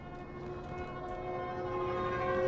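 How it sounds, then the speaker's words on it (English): A Stuka dive bomber in the game Hell Let Loose approaches with a steady rising drone and a siren-like wail, growing louder over a couple of seconds with no talk. "Stuka coming in"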